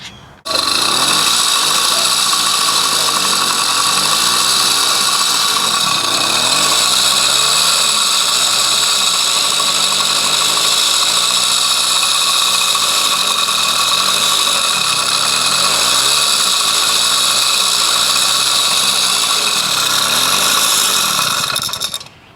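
A 66cc two-stroke motorized bicycle engine that does not idle correctly runs steadily for the whole stretch, a loud, buzzy high-pitched drone with slight wavering in its pitch.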